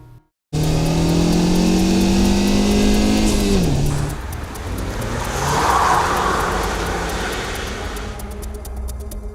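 A convertible driven with the top down on the D526 Alpine road in France, its engine loud and close, revving up then easing off, with steady wind and road rush continuing alone.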